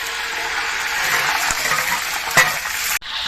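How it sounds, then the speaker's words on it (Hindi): Ghee sizzles loudly and steadily in a large biryani pot as onions are added, giving a dense, continuous frying hiss with a brief stirring clatter near the end. "घी क्योंकि आवाज़ें दे रहा है कि मेरे अंदर कुछ डालो, तो अभी प्याज डाल दिए हैं"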